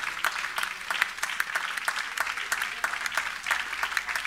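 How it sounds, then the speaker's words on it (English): Church congregation clapping hands in praise during a worship service, a steady rhythmic applause of many hands at moderate distance, with no talk over it. "If you love him, just clap your hands to the Lord and magnify him for a moment."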